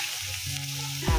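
Garlic drops into hot oil in a pan for buttered garlic shrimp, setting off a sudden, close sizzling burst after a brief quiet hiss.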